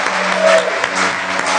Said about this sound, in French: Que tout le monde puisse faire une grande acclamation pour Dieu